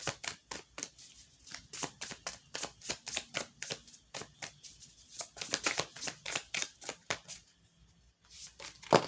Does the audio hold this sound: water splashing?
no